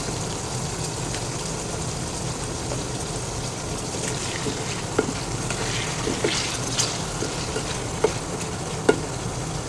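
Potatoes seasoned with salt and turmeric fry in a pan while being stirred, giving a steady close sizzle broken by occasional scraping clicks of the spoon, with no talking.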